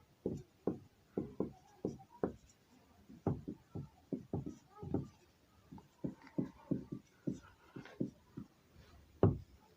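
A teacher writes on a classroom board with quick, faint tapping strokes that come in irregular bursts, close and quiet, with no one talking.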